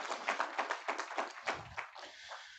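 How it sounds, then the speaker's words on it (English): Audience applause fills a keynote event hall, a dense run of hand claps from a large crowd holding steady for about two seconds before thinning out. "I would like to give Zach Armstrong and Sarah some applause"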